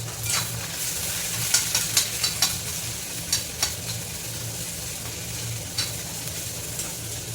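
Onion frying in hot oil for a bean usal, a steady broadband sizzle with a low hum underneath and several sharp spatula clinks and scrapes, close and continuous with no talking.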